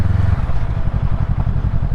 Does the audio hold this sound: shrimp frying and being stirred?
no